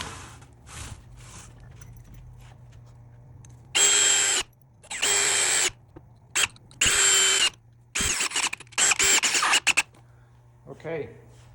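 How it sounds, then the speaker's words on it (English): Power drill driving 3-inch square-drive screws into the backrest rails of a Homestead side chair, several loud bursts of a few seconds each, close up, with short pauses and faint talk between them. "put screws in the backrest rails. We're going to use a 3-inch square drive."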